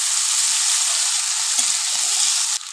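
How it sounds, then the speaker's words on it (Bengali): Potato and carrot pieces fry in hot oil, giving a loud, even sizzle close up, with a few soft stirring knocks before it cuts off abruptly at the end. "আলু সুন্দর করে একদম লাল লাল করে ভেজে নেব"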